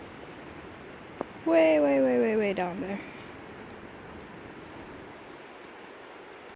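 Distant rushing creek water far below a hiking trail in Alaska, a steady broadband wash running through the whole clip while a person speaks briefly in the middle.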